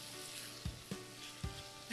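Chopped tomato sizzles in a hot pan, a steady frying hiss broken by four quick spoon scrapes and knocks as it is stirred in.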